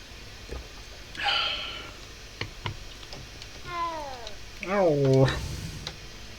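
A cat meows in the video game Hogwarts Legacy: a short, clear meow that rises and falls in pitch, heard close over faint game ambience, with scattered clicks and a soft low hum around it.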